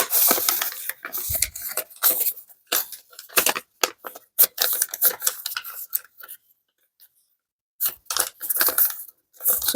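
Sheet of paper being folded three times into an accordion fold for a handmade journal: a series of close, short crinkling and creasing rustles with brief pauses, faint speech-like sounds mixed in.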